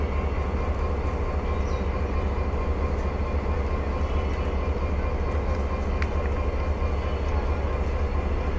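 A train that has arrived from Dhaka sits at a station platform, giving a loud, continuous low rumble and hum that holds steady throughout with no break, and no voices are heard.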